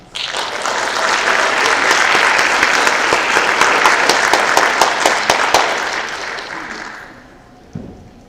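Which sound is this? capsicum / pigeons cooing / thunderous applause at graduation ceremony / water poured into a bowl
thunderous applause at graduation ceremony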